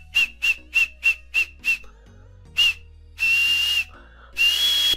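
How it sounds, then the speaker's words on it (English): Nasal whistling, a thin high-pitched tone heard as six short evenly spaced toots, then a single toot, then two longer sustained whistles, close and fairly loud, with no talk over them. "I just whistled with my nose and I don't know how"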